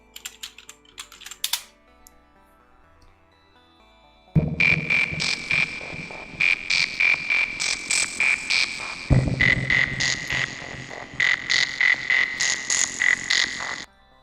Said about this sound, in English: Let me give you the frog song.